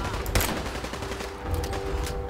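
Gunfire in the video game Fallout 4 during a fight with super mutants, with a loud, close opening shot and then a steady wash of further shots and combat noise, without talk.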